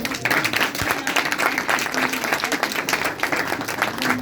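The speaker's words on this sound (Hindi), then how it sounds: "भाई साहब के लिए जोरदार तालियां" A church congregation breaks into loud applause for a fellow member during a service, many hands clapping steadily and continuously, with a faint murmur of voices beneath.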